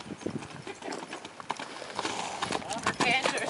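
A bay Thoroughbred mare moves under a rider at a canter, her hooves drumming in a quick rhythmic clip-clop on soft ground while people talk over it.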